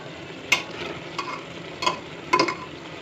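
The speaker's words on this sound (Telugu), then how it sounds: "ఇలా మధ్య మధ్యలో ఇలా కలిపేసుకుంటే బాగా వేగుతుంది." Mutton curry frying in a pan, stirred now and then. A steady sizzle runs throughout, with a few distinct scraping stirs close by and no talk.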